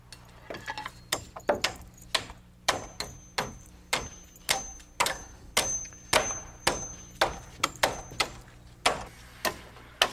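A hammer drives nails into a roof purlin lapped over rafters, giving a steady run of sharp, close blows with a metallic ring, at roughly two strikes per second.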